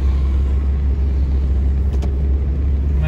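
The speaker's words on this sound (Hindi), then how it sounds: "आज बहुत ट्रैफिक है, देख लो बहुत ज़्यादा ही ट्रैफिक है आज तक" Steady low rumble of heavy road traffic heard from inside a car, with a constant engine drone and passing vehicles blending into a continuous close hum, with no talking.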